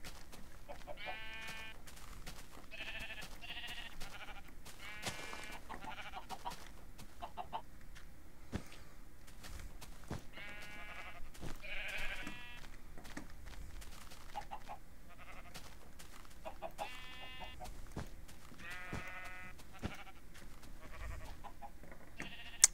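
Sheep in the Minecraft video game bleat repeatedly on a farm, short nasal calls spaced every few seconds over a faint, low background hum.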